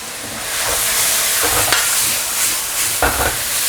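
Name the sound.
stir-frying with soy sauce, salt and sugar on high heat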